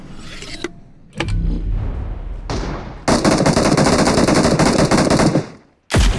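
Automatic gunfire from a BGMI / PUBG match rattles in fast, loud bursts, a short volley, a longer sustained spray, then a final burst after a brief gap, all close and without talk.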